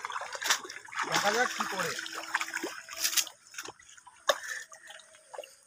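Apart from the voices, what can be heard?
fishing net hauled from Sundarban river, water dripping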